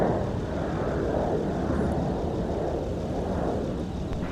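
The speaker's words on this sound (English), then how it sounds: "United Airlines off to Houston." A United Airlines jet departing from Minneapolis–St. Paul airport in winter, a steady loud low roar of engines with rushing wind noise throughout, no speech.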